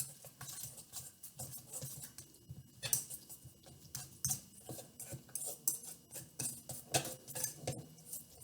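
Peanut butter cookie dough is mixed by hand in a large bowl, giving a quiet, irregular run of scraping, clicking utensil strokes close by with no talk.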